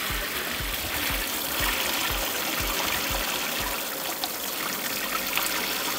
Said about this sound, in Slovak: Teplá voda, odpustíme zhruba 10 litrov vody a budeme merať